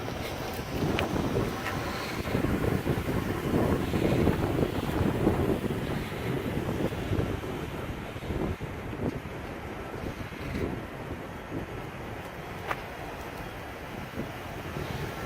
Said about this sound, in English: it was really windy earlier, so I'm not sure if you're going to be able to hear me